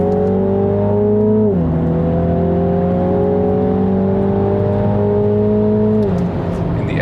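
A Mini John Cooper Works GP engine revs hard on the Nürburgring racetrack, a loud steady drone climbing in pitch with two quick gear shifts breaking the rise, close and continuous inside the car.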